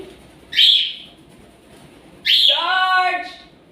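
A pet bird lets out two bright calls: a short sharp chirp, then a longer whistled, warbling note, with quiet pauses between them.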